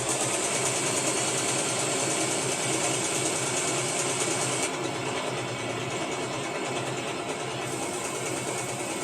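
A sewing machine runs steadily, hemming the edge of a fabric face mask, with a continuous even mechanical whir and no pauses or voices.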